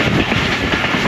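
Train rolling into the Kaluwal railway station yard on the single-line Lahore–Rawalpindi route, a steady, loud, close rumble of wheels and wagons with faint clickety-clack, no voices.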